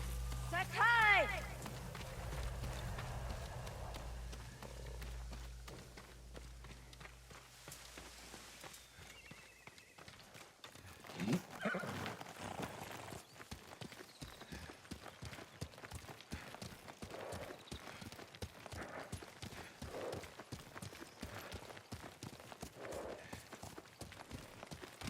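Horses gallop in Ghost of Tsushima, a steady run of hoofbeats at close range from about ten seconds on, after a burst of voices and music, with faint spoken lines mixed in.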